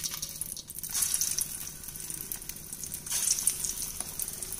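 Bonda batter made from thattai paruppu is pinched and dropped into hot oil, raising steady crackling sizzle that swells in bursts as pieces go in.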